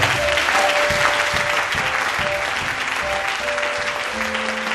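A church congregation applauds, a steady, dense, continuous clapping from many people that fills the room, with a sustained musical tone and faint voices underneath.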